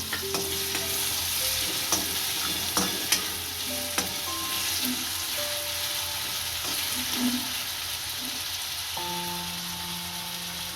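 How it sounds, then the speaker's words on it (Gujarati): Onions fry in a pan for a soya chunk curry, giving a steady close sizzle with occasional stirring scrapes and soft pops throughout. No one speaks. "આમાં હવે કાંદા નાખીશું અને સડવા દઈશું"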